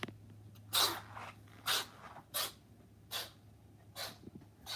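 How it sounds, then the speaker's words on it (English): A cat sneezes repeatedly, about six short sharp bursts spaced roughly a second apart, close and fairly quiet over a faint low hum. "sneezes and like gummy bears come out its nose."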